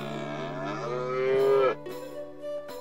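A cow in South Park: The Stick of Truth lets out a single long, loud moo that rises and holds before cutting off, followed by a softer, shorter trailing low. No talk is heard.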